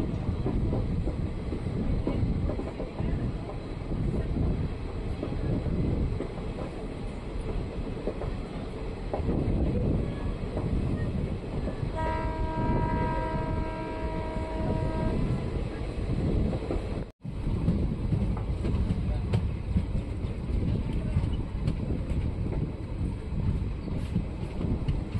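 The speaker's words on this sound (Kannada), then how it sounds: "ನಮ್ಮ ಟ್ರೈನ್ ಈಗ ಕ್ಯಾತನಕೇರಿ ರೋಡ್ ರೈಲ್ವೆ ಸ್ಟೇಷನಿಂದ ಹೊರಟಿದೆ" A train pulling out of Kyatanakeri Road railway station, a continuous rumble and rattle of the moving carriages with wind buffeting, a brief tonal horn-like sound in the middle, faint and steady.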